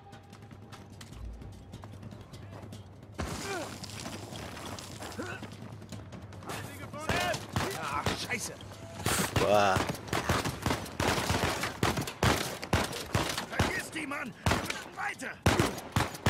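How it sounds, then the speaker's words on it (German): Rapid gunfire in the video game Uncharted 4, bursts of sharp shots growing denser and louder through the second half, with someone talking over parts of it. "Wer schießt denn da jetzt?"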